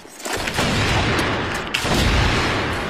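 In the online shooter Crossfire, AWM sniper rifle fire from a free-for-all match booms loudly and close, with heavy shots running together into a dense barrage.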